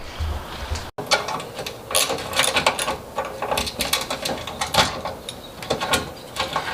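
Rear bumper being removed from a Datsun 280ZX: a run of irregular clicks, scrapes and short mechanical rattles from tools and loosened parts, close and fairly loud with no talking.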